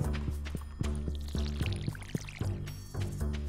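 Water pours steadily into a dog bowl in Stardew Valley, with small splashes and drips, over a looping game soundtrack with rhythmic chimes.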